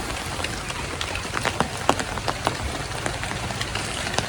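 Rain falls steadily outdoors in rural Bangladesh near fields and a river, a dense even patter with scattered sharper drops striking nearby surfaces and no one speaking.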